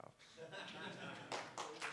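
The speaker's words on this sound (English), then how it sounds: "You must clap now." Applause from an audience at the SKID 2024 data engineering conference talk: scattered clapping that swells into brief bursts toward the end, mixed with a voice speaking.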